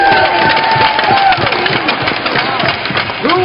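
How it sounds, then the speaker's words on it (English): A crowd of spectators at a youth hockey skating event cheers and claps for young students, a dense, loud, continuous roar with overlapping voices throughout. "What about a big round of applause for all the young students who came out?"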